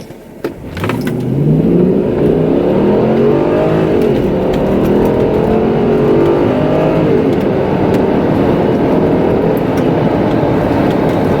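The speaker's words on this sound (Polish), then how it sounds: "a nawet na tryb sport i depczemy Tuarega do 100 na godzinę" A Volkswagen Touareg 4.2 V8 SUV roars steadily as it accelerates hard in sport mode to 100 km/h, heard muffled from inside the closed cabin, the revs climbing through several gear changes.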